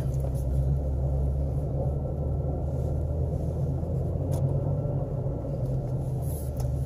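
A Ford Ranger crawling off-road in four-wheel-drive low, a steady low engine rumble with muffled cabin drone and occasional faint knocks, no talk.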